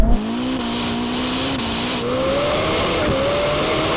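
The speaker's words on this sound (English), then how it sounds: "Oh, got him off the line. Oh, he's had a better launch." Lamborghini Temerario and Ferrari SF90 launch side by side in a drag race, engines screaming loud and close with rising revs and tire squeal over steady roaring exhaust.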